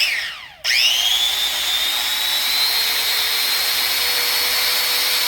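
A Bosch 1375A 4-1/2 inch small angle grinder spins up with a rising whine after a brief quiet moment, then runs steadily and loudly at high speed with a constant bright tone.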